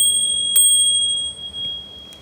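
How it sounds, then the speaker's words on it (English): A bright bell rings with a sharp strike and sustained metallic tones, followed by a quieter second ring near the end. "I have a bell here for signaling."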